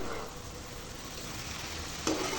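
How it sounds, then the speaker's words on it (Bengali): Chalta pickle with melting sugar is stirred continuously in a pan, making a steady, fairly quiet sizzle with one brief scrape near the end and no speech. "আস্তে আস্তে নেড়ে ক্রমাগত নেড়া নাড়াচাড়া করতে হবে"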